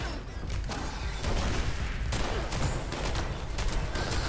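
Gunfire in the video game Fallout 76, a dense continuous barrage of rapid shots and booms, loud and close without pause.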